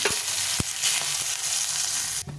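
Dried chillies, fenugreek seeds and a bay leaf fry in hot oil in a pan, giving a steady, loud sizzle with a few sharp clicks and taps of stirring, and no one speaking.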